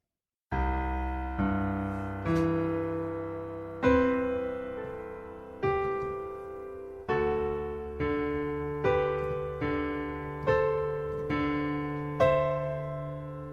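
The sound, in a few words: piano playing song intro measures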